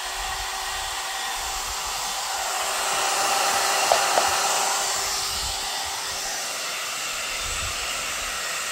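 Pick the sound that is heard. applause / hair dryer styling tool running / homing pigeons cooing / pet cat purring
hair dryer styling tool running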